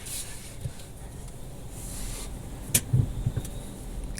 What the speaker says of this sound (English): Car washing.